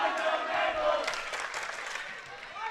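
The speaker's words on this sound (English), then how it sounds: "And there's our cheering section." A cheering section in the stands at a high school girls' volleyball match lets out a rowdy burst of yells and cheers, moderately distant, with a commentator's voice over it.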